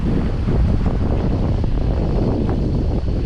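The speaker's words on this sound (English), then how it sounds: "It's been a crazy day with wind." Strong wind gusts across the microphone on a sailboat at sea approaching Dominica, a steady loud rush with low buffeting and water sounds throughout, no talking.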